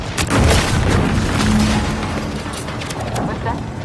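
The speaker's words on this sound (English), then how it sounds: "What's that? An explosion?" A heavy explosion in the video game Outer Worlds 2: a deep, loud, rolling boom that rumbles on and slowly fades over several seconds.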